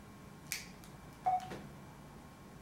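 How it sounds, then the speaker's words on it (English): Two faint, sharp clicks of buttons being pressed on a phone held in a bike phone mount, spaced about a second apart in a quiet room. "you can hear me pressing buttons on the phone as I'm doing this"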